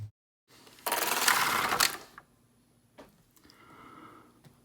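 A knitting machine carriage sweeps across a row of garter stitch in one loud whirring pass, followed by a click and quieter mechanical rattling.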